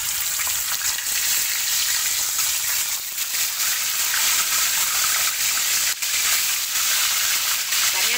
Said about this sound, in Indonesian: Nah, ini kita sudah memanaskan minyak untuk menggoreng ikan yang akan kita buat ikan kuah kuning.